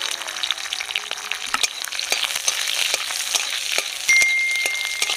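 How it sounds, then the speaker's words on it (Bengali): Garlic, black cumin and green chilli frying in mustard oil, a steady bright sizzle with occasional clinks and stirring scrapes, close and continuous without talk. "রসুনগুলোকে একটু হালকা ভেজে নিতে হবে।"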